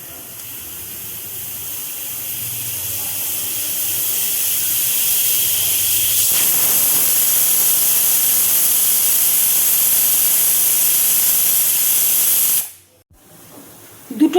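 A pressure cooker cooking dal on a gas stove lets out a long, loud steam whistle, a rising and sustained hiss that cuts off abruptly near the end, with no talking over it.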